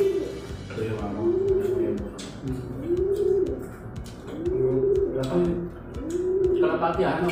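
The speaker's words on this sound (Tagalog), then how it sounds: "Kalapati ha, ano?" Pigeons coo in repeated low, throaty phrases, fairly close, with a few chirps and soft background clatter around them.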